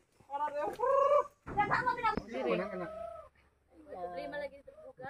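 Hens clucking nearby in short bursts, mixed with people talking over them.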